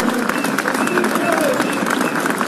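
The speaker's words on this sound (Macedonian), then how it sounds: "Би сакал остенаш да ја замолам со голем аплауз да ги поддржиме овие 6 наши јунаци" An audience at a political event applauds six party members with loud, continuous clapping and crowd noise, with voices mixed in throughout.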